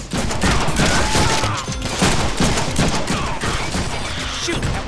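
Gunfire in the Deadpool video game: rapid overlapping shots in a dense continuous fusillade, loud and close with scattered clinks over the barrage.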